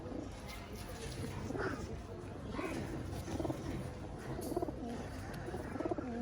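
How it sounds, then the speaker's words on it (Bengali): Seven female breeder pigeons coo softly in their loft, low rounded calls repeating every second or so beneath a constant background hum, fairly faint rather than close. "এই হলো আমার মেন ব্রিডার সাতটা মাদি কবুতর"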